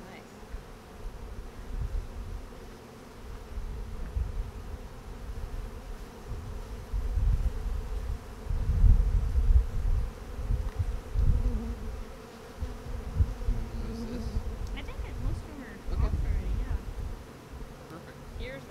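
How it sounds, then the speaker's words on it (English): Bees buzz steadily around a hive being transferred into a new box, a continuous droning swarm that swells and fades close by, with people talking quietly over it. "A lot more bees on you."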